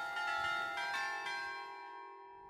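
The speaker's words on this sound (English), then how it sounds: "Oh, there's the doorbell, perfect timing." A bright, ringing bell chime strikes a few times and then fades slowly into a lingering hum.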